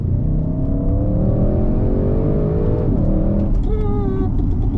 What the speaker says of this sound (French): Peut-être pas accélérer à côté du vélo, il risque de se faire aspirer par le V8.